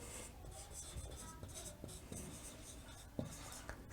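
Chalk or marker taps and scratches on a board, faint and irregular, with soft background hiss.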